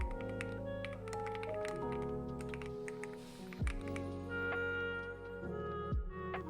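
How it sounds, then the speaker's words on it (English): Keyboard typing in a rainy setting, rapid irregular key clacks close to the microphone over a sustained tonal background, moderately quiet, no speech. "guided by the beautiful sound of her keyboard typing."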